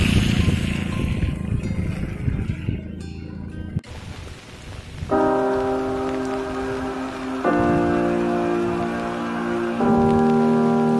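Rain patters steadily on a surface, then music with sustained tones comes in over it.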